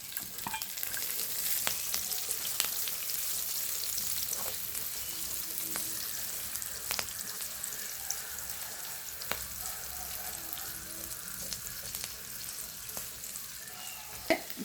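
Onions, shallots, green chili and curry leaves fry in oil in a pan, a soft steady sizzle with occasional clicks and stirring taps, quiet and unbroken, with no voices.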